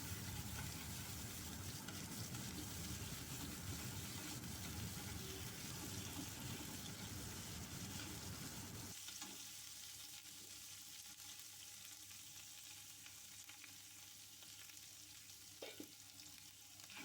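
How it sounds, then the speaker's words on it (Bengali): A ginger, chilli and tomato paste fries in oil for a rohu fish curry, crackling and sizzling loudly at first with stirring, then settling to a quieter, softer sizzle with occasional scrapes. "তারপর মশলাটাকে তেলের মধ্যে ভালো করে ভেজে নিলাম"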